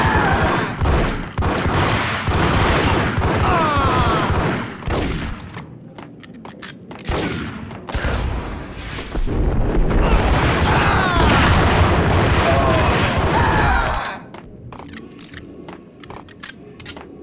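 Gunfire and explosive booms from the Max Payne video game, a dense, loud barrage of shots and blasts with brief lulls, running nearly continuously and dropping to quieter scattered shots near the end.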